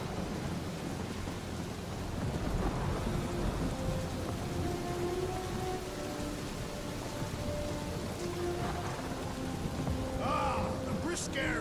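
A video game thunderstorm, steady rain hissing on surfaces under deep rolling thunder, with faint tonal calls and a voice talking softly over the downpour.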